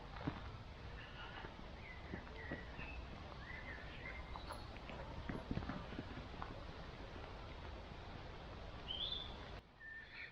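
Birds chirp and trill here and there over a steady, dense patter of rain falling on leaves in Colwick Country Park, Nottinghamshire, with a brief quieter moment near the end.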